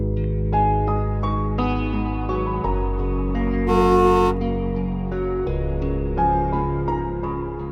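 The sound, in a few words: car horn honking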